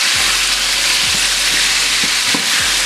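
Oxtail browning in a hot pot gives off a loud, dense sizzle, broken by a few low scraping stirs, close up with no voices.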